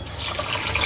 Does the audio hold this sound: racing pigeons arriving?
no